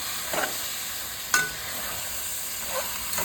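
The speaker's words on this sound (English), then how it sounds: "Let's give this a nice stir together, like so." Chicken curry with plum tomatoes being stirred in a frying pot for Jamaican curry, a steady low sizzle broken by a few soft scraping strokes and one sharp clink of the spoon.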